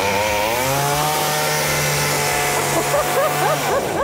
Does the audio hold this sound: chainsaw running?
yes